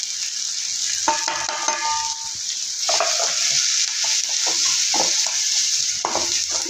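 Tomatoes and onion frying with spices in a pan for potato poriyal, a strong steady sizzle close up, broken by spoon scrapes and clinks against the pan.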